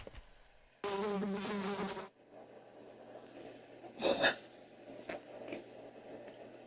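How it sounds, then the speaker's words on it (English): Fly buzzing loudly and close by in a steady, whining drone that lasts about a second, then a softer buzzing pass a moment later over quiet background ambience. "Like wings buzzing, maybe a fly on the wall."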